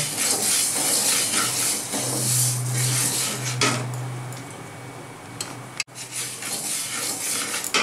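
Moong dal dry-roasting in a pan over a gas flame, a steady soft hiss with faint scraping and clinks of utensils throughout, no talking.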